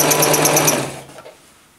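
A sewing machine zigzag stitching lycra, a loud close rapid mechanical whir of stitches for about a second before it stops and fades.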